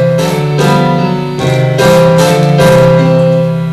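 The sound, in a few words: music generated by an RBM model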